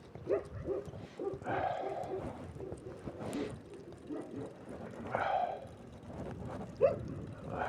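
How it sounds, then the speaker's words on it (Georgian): Dogs bark a few times at a distance during a bicycle ride on a frosty day, the short barks faint against outdoor rumble. "სად ხართ ძაღლებო? აი ძაღლები."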